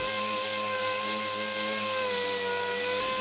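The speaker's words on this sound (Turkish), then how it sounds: "220 zımparayı da artık tamponun üzerindeki bütün noktalara yapıyorum" A power sander fitted with 220-grit paper works over a repaired car bumper, giving a loud, steady whining hum that holds level and then drops away near the end.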